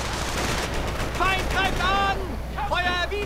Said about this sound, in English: Panzer IV opening up on the American infantry